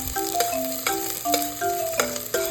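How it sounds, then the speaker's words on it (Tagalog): Plenty of chopped garlic sautéing in hot oil in a pot for chicken white adobo, a continuous bright sizzle with soft stirring touches, under a steady background melody. "Pag mainit na yung mantika, maglagay na tayo ng bawang."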